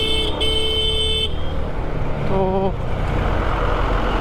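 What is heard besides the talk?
traffic jam with car horns on the road near Bhimtal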